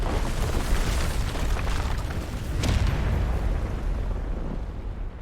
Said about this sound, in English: I think he's destroying that crystal for us.